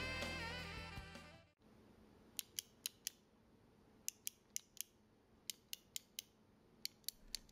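A standard Sanwa JLF arcade joystick gives a series of sharp, close, dry plastic clicks as it is moved. The clicks come in short irregular bursts over a quiet background after a brief stretch of other sound.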